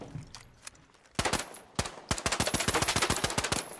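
Suppressed semi-automatic pistol fired in the video game The Finals: a few scattered shots, then a fast steady string of sharp, clipped reports, fairly quiet and alone.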